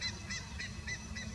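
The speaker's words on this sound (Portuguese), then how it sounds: "Curicacas cantando ao longe." Buff-necked ibises calling in the distance in countryside, a series of faint repeated honking calls about every third of a second over a low rumbling background.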